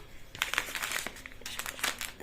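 Plastic shopping bag being handled and crinkled close by, producing irregular bursts of crackly rustling with short pauses between them.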